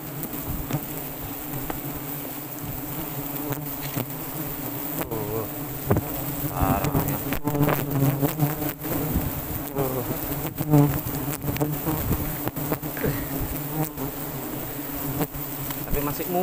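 An angry swarm of giant honey bees (Apis dorsata) at a high nest during honey harvesting in a tall tree, a loud continuous buzzing drone close around, with scattered rustles and knocks throughout.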